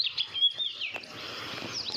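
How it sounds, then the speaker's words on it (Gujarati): Sparrows chirping in the morning at a village farm, quick high tweets repeating close by against a quiet outdoor background with no talk. "સવારના પોરમાં જો ઘણા બધા ચકલા હાવ ચી ચી।"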